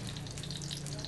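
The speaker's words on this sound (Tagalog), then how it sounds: "Wala, prito-prito lang." Food sizzles and crackles steadily in a frying pan during home cooking, a soft, dense spatter heard close but at low volume for a brief moment.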